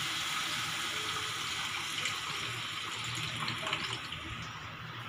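Water poured into a cooking pan while making Bengali fish kalia gravy, a steady splashing flow that runs continuously for several seconds with no talk.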